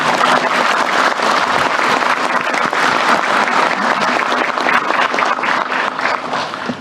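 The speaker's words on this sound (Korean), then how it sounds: "박수도 한번 치러주세요." Loud, sustained applause fills a government meeting room after a presidential address, with many hands clapping evenly and no talking over it.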